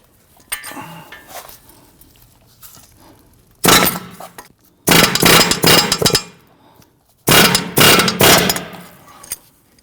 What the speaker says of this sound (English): We're going to use our air hammer here to go ahead and try and drive out our ball joint